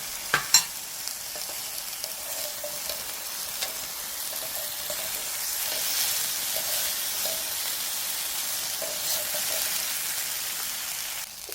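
Eggplant and tomato sizzle and crackle steadily in a hot pan while being stir-fried, a dense continuous hiss with a couple of louder clatters near the start and no voices.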